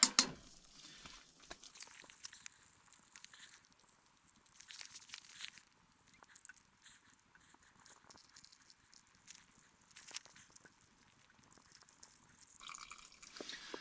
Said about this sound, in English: I think I need to add more water.